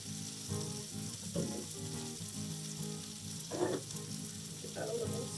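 Garlic fries in a moderately hot pan with a steady broadband sizzle, broken by a few louder bursts where a utensil stirs and scrapes it around; no one speaks.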